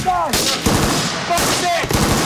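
Machine gun fire from Royal Marines in combat in Afghanistan: loud, close bursts of rapid shots in quick succession, with brief gaps between volleys.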